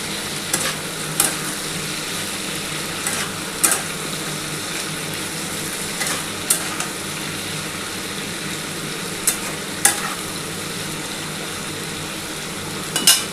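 Yardlong beans and onion frying in a pan, a steady close sizzle broken every few seconds by sharp scraping stirs of a spatula against the metal, with no talking.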